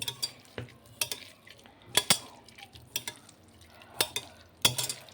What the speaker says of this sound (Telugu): మంచిగా ఇట్లా కలుపుకోవాలి ముక్కకు బాగా పట్టాలండి